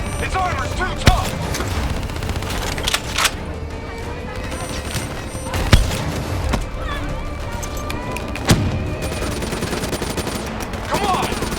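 Steady gunfire and explosive bursts of a swarm launcher in the Black Ops 3 campaign, a continuous battle din punctuated by several sharp loud impacts, with shouted voices mixed in.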